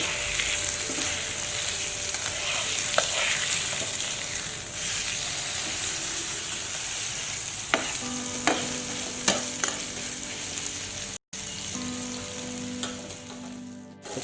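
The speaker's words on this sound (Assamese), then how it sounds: "দেখিবলৈ পাইছে ধুনীয়াকৈ ফ্ৰাই হৈ আছে আমাৰ চিকেনটো" Marinated chicken fries on a low flame for lemon chicken with a continuous soft sizzle, broken by occasional stirring clinks and scrapes in the pan.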